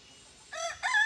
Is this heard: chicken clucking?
yes